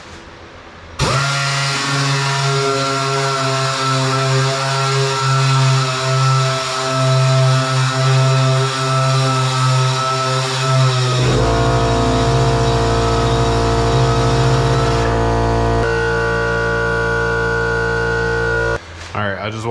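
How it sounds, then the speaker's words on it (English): An air compressor and a sander run together while the paint on a BMW E36 is sanded with 400-grit paper. The loud, steady mechanical drone holds throughout, with its pitch shifting twice partway through before cutting off near the end. "You can see how loud the sander is and the compressor"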